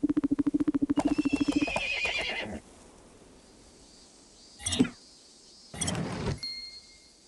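A horse whinnies in Barbie Dreamhouse, a high wavering neigh with clip-clop hoofbeats, followed by short bright chimes and effects.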